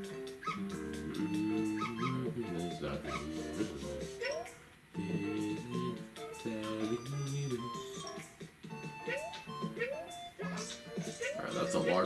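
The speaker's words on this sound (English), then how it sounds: "Will you just shut up, Poochie Pup?" Poochy, the dog from the Yoshi's Crafted World video game, gives short yips, barks and whimpers in repeated bursts over bright, busy game music throughout.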